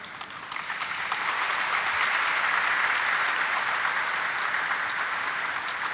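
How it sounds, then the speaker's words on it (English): Sustained audience applause fills a company stock-exchange listing ceremony for Essen Speciality Films Limited, a dense, steady wash of many hands that swells within the first half second and holds evenly throughout, with no talk over it. "So I guess big applause for this team,"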